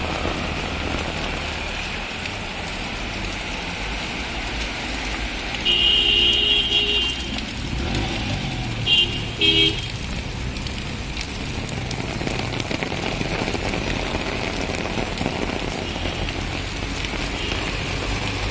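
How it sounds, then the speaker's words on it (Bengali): Steady heavy rain patters on surfaces on a Dhaka street, a constant dense hiss with a few brief electronic tones and passing traffic noise nearby. "সকাল থেকে বৃষ্টি, এখনো বৃষ্টির খুবই চাপ রয়ে গেছে"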